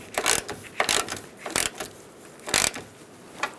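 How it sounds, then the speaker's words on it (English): A ratchet tightens the battery hold-down bolt on a 2002–2006 Honda CR-V, giving several short bursts of rapid clicking at close range, with brief pauses between strokes. "Tighten this first."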